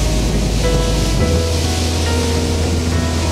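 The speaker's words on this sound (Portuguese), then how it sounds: "E só esse ventinho, só essa brisa do mar, meu irmão, já conquista, viu?" Steady, loud surf and sea breeze at Itapuã beach in Salvador, Brazil, a continuous wash of breaking waves and wind noise close to the microphone, with no talking.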